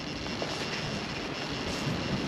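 Goosky RS7 RC helicopter with loose gear mesh spools up in a steady, fairly close whine and broadband whir, with no voices over it.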